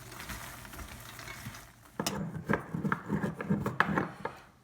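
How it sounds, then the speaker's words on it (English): Food being stirred in a pan on medium heat, a faint sizzle underneath, then scraping, tapping utensil strokes in an uneven rhythm once mixing begins, no talking. "turn it on to a medium 6 and mix it"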